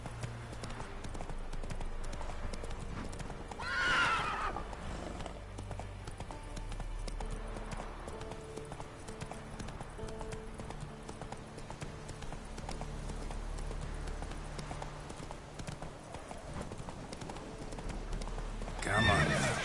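Geralt's horse Roach in The Witcher 3 video game, rhythmic clip-clop of galloping hooves running steadily, with two loud neighs near the start and end over soft background ambience.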